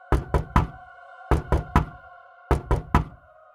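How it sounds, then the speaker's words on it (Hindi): Three sharp knocks repeated in three quick groups on a wooden door, close and clear with a faint steady hum behind, in a rainy night setting. "कोई दरवाजा खटखटाता है।"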